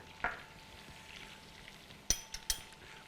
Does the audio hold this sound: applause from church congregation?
no